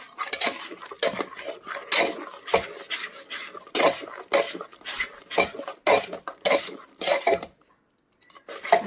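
A ladle or churner whisks rice batter in a pot for crunchy rice snacks, giving rhythmic scraping and knocking strokes against the vessel, close and fairly loud, in uneven bursts with a short pause near the end.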